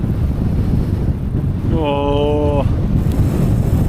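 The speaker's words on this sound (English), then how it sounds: "Decent amount of wind." Strong wind at a freezing mountain campsite around 2,500 feet, a steady low roar buffeting the microphone throughout, with a brief spoken exclamation in the middle.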